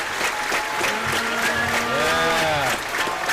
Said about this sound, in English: Crowd gets a little bit of hype.